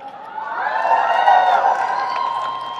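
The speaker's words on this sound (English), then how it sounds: "There's a big old crowd out here, ain't it?" A big crowd at a Walker Stalker fan convention in Dallas cheers and whoops for Michael Rooker, a swelling roar of voices that peaks and holds loudly.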